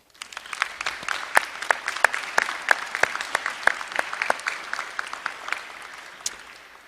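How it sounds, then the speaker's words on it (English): Audience at a community college graduation ceremony breaking into applause, a scattered but steady round of hand clapping with distinct individual claps, moderately near, rising quickly and tapering off at the end with little talk. "Please join me in giving them a round of applause."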